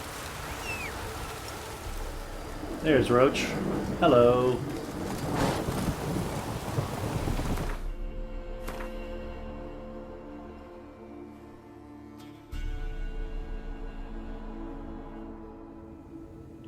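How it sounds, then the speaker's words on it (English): Heavy downpour with rolling thunder in The Witcher 3 game world, a steady broadband roar of rain that stops abruptly partway, leaving quieter ambience with a later rumble; someone talks briefly over it early on. "This downpour's a bastard"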